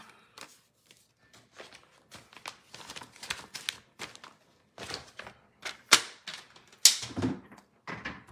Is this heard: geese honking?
no